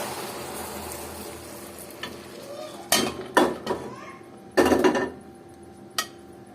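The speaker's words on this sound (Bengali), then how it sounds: "এই যে নাড়াচাড়া করতে থাকবো" A spoon scrapes and stirs through milk with freshly melted caramel in a pan on the stove, giving a soft simmering bed broken by several sharp, close scraping strokes, with no talking.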